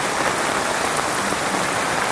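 Steady rain pours down during a flash flood in Lambheu, where the main village road to the mosque runs like a river, a dense unbroken hiss of drops on surfaces filling the whole stretch.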